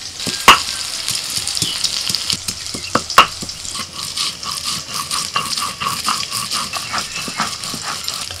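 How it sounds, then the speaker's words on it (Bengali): Bitter gourd fries in oil with a softer, steady sizzle, broken by a few sharp clacks and then a run of quick, rhythmic tapping nearby. "করলাটা ভাজতে ভাজতে একটা বাটনা বেটে নেব।"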